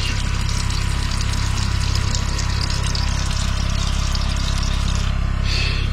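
A submersible water pump with a flow problem runs in a Hymer MLT 580 camper, giving a steady loud hum and rushing water flow that continues unbroken throughout.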